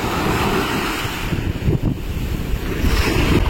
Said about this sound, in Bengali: সকালের সমুদ্র,